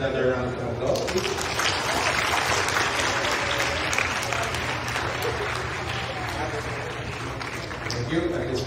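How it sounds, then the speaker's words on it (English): Audience applause fills a retirement ceremony for a COMELEC chairman, dense and steady throughout, loud and sustained as a large crowd claps without pause. "beloved chairman another round of applause"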